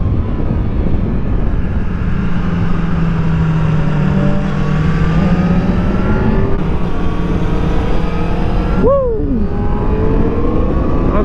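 A loud two-stroke motorcycle engine drones steadily with rising and falling pitch as it revs and shifts, a sharp drop and climb near the end, close and continuous.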